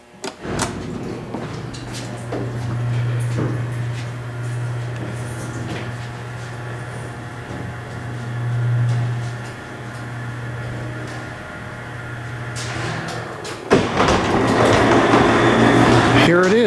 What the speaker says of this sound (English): today we're going to take a ride on a vintage Salem elevator